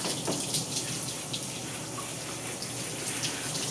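Steady shower water runs continuously while hair is rinsed, a close, even rush of spray and falling water with no break, like a tap flowing into a tub.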